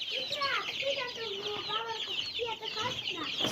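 Chickens cluck and chatter continuously nearby while feed is prepared for them, overlapping calls over a faint background hiss.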